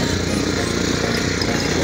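A motorcycle engine drones steadily and loudly during a ride on a mountain road toward Kalinchowk in Dolakha, Nepal, with no break in the sound.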